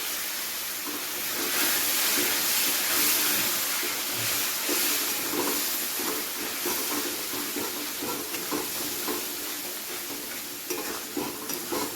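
Tomato masala for a vegetarian pointed gourd curry sizzles in a pan after a little water goes in: a continuous bright hiss and crackle with soft stirring scrapes, steady and close, and no voices.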